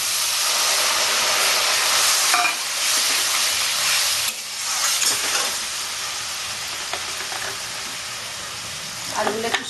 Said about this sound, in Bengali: কষা হয়ে গেছে এবার আমি একটু একটু জল দেবো